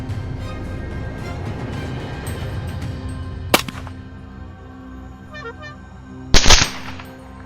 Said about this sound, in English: In the dark night, the gunshots kept ringing, and the saboteurs were eliminated one by one.